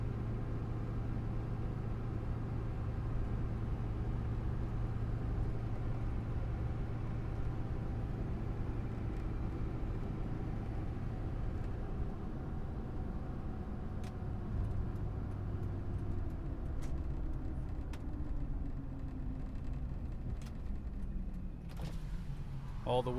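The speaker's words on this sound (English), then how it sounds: "Drives completely straight going down the road." A GMC Sierra 2500 pickup truck drives down the road with a steady low engine rumble and road noise from inside the cab, its pitch shifting gradually, while someone talks throughout.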